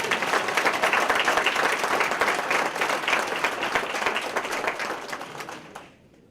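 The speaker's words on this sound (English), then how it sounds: "so if you guys would please give my brother a round of applause" Applause from an audience at a Black Heritage celebration event, a sustained crowd of clapping hands that holds steady for several seconds and then fades out abruptly near the end.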